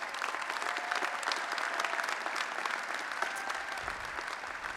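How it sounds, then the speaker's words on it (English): A large crowd applauds at a university spring commencement ceremony, a sustained, even roar of many hands clapping that sounds distant and spacious, with no talking over it. "So give them a hand of applause as well."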